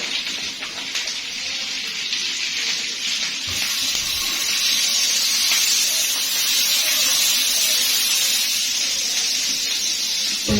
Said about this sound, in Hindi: इसको तवे पे थोड़ा सा मक्खन लगा के